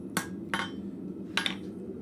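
Hammer blows closing the curl of a forged cloak pin on an anvil in a blacksmith shop, three sharp ringing strikes spaced unevenly over two seconds against a low background hum.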